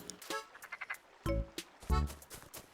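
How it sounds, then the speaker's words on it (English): Animal Crossing: City Folk frog: a rapid patter of small clicks, then two loud, deep, buzzing croaks spaced about half a second apart, close and alone with no speech. "frog makes his frog noises"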